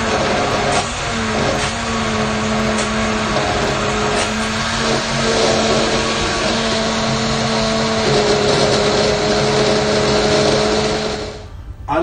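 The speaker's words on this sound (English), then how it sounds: "we're going to blend it" A blender whirs through homemade mushroom soup, a loud steady motor drone with a whining tone that shifts pitch a couple of times before cutting off abruptly at the end.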